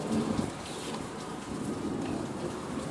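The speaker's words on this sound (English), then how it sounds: "there's your thunder" Heavy rain pouring during a thunderstorm with a low rumble of thunder beneath the steady hiss, fairly loud and continuous, no voices.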